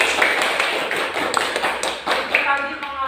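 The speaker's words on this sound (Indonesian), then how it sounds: "Iya, masih tepuk tangan." A classroom of children clapping their hands together in a dense, irregular patter of overlapping claps, with voices talking over it toward the end.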